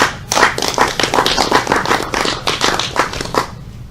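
A small group claps for the presenter Betty after her talk on renewable electricity, a brisk burst of close hand claps lasting a few seconds before fading out.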